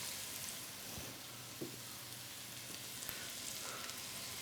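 Onions, celery, carrots and serrano chilies sizzle in melted butter in a pan, a dense, even hiss with faint scattered pops running steadily and close, with no voices over it.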